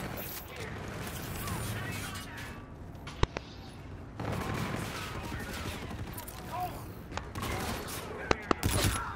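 Gunfire in a hardcore team deathmatch on the Crusher map of Call of Duty: Infinite Warfare multiplayer. Steady bursts of shots with a few sharp, loud cracks stand out, while a player talks over the action.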